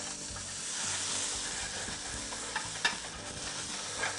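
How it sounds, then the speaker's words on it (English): Onions sizzle steadily in hot oil in a pan for a chicken fried steak, a dense continuous frying hiss with a few brief stirring clicks, close and alone without voices. "Put my onions in first so that I can sweat them off a little bit."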